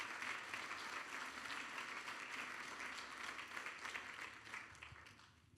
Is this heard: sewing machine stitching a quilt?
no